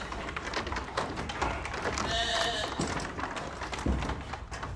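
Sheep bleat intermittently while being penned inside a shearing shed, with hooves shuffling and clattering, and faint human voices in the background.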